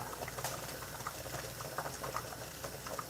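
Rice simmering in a pot over a gas flame, a steady soft bubbling hiss with scattered small pops throughout, close and fairly quiet, with no voices.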